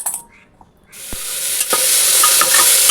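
Garlic and onion tempering in hot oil for dalia khichdi, starting with a quiet gap and a few faint clinks, then a loud hiss of sizzling that rises after the first second and holds steady to the end.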